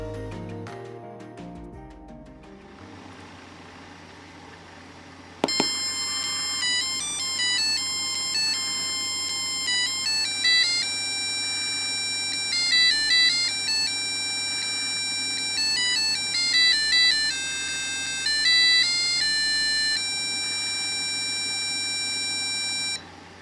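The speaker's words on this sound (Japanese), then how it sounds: "今回はパッシブブザーを使って電子オルゴールっぽく音楽を奏でてみました。" A passive buzzer driven by a microcontroller plays Ravel's Bolero as an electronic music-box melody, bright pure beeping tones in a steady note-by-note sequence, loud and alone after a few seconds of lower sounds and a sharp click.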